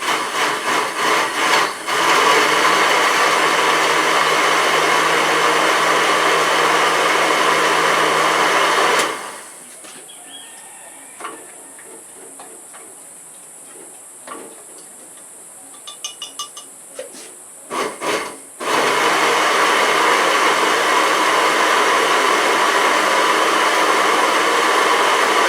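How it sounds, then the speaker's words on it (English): A loud blender whirs while mixing a tomato-free ketchup of vegetables and nuts. The motor cuts out for several seconds, leaving faint clinks and scraping, then roars back at full strength. "Just mixing it a little bit to help out the blender."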